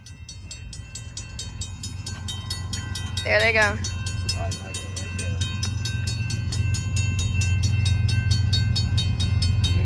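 A BNSF train rolls past a crossing as a steady loud rumble with repeating rail clatter, while a brief high squeal or horn-like tone sounds near the middle and a person speaks briefly over it.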